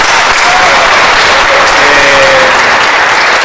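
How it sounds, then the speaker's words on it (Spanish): A hall audience gives loud, sustained applause for an event organiser at a local gathering in Basavilbaso. The dense clapping is close and steady throughout, with a faint voice briefly audible underneath. "Yo le pido un aplauso para Carlos"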